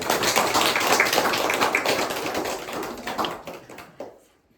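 A congregation at a Christmas Mass claps in a dense, sustained round of applause that fades out near the end, leaving a few scattered claps.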